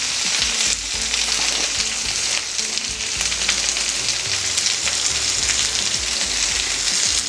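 Chopped onions with salt fry in a pan for a mushroom biryani, giving a loud, continuous, close sizzle with faint crackles and occasional stirring scrapes, and no talking.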